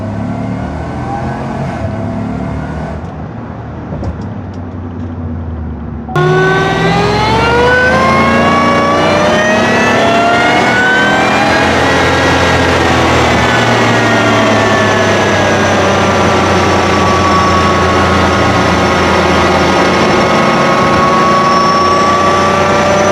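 Inside a 2019 GMC Yukon Denali with a Whipple supercharged engine, a quieter idle gives way to loud revving, the engine note and supercharger whine climbing and holding high in a sustained, powerful drone.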